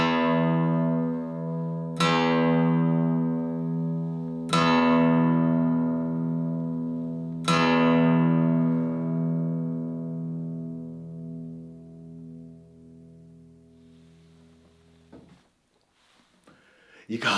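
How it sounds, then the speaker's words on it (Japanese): Low bass notes on a 2014 Martin HD-28V acoustic guitar, a vintage-style dreadnought, struck three times about two and a half seconds apart, each ringing out with long, deep sustain before fading into a near-silent room. "まずこの低音から聞いてください。"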